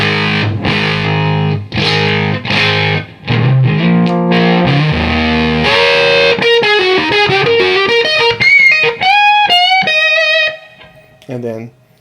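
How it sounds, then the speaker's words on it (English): An electric guitar played through a Fuzz Face fuzz pedal on its own gives a loud, thick fuzzy tone, chugging chords followed by a descending run of sustained notes that fades out near the end. "So here's what the fuzz sounds like by itself."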